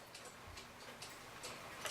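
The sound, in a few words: Hebert Herr 8-day clock movement ticking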